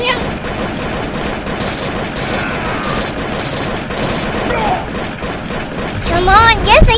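Gunfire in the Commando Defense game rattles as dense, continuous bursts with booming impacts, loud and close, while an excited voice shouts over it near the end.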